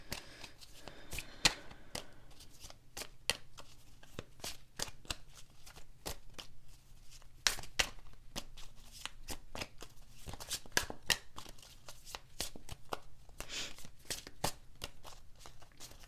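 Tarot cards are shuffled continuously for the whole stretch, a quiet, close stream of papery riffling clicks and flutters in uneven bursts with no talking.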